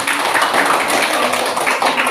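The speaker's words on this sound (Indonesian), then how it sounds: "Tepuk tangan." A group of people claps their hands together at a lesson, with dense, steady applause that is loud and close throughout.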